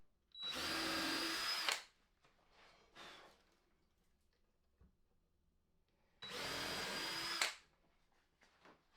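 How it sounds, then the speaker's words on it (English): Two separate bursts of a power drill with a normal bit boring into wood braces of a 2x4 bench, each lasting over a second, separated by quiet gaps holding faint clicks and handling knocks. "Use a normal drill bit to drill in the middle of those."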